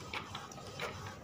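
An Epson L121 inkjet printer printing a test page, giving a brief run of small mechanical clicks and ratcheting whirs from the moving carriage, heard close by.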